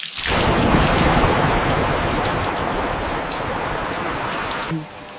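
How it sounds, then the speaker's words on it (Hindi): Heavy rain pours steadily with a deep rolling thunder rumble underneath, loud and continuous, ending with a brief dip near the close. "बारिश आ रही है"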